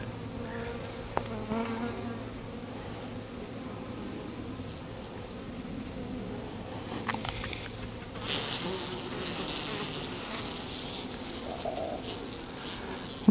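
Honey bees buzzing around an open five-frame nuc during a hive inspection, a steady, close, low hum of many insects that persists throughout with occasional frame and handling noises.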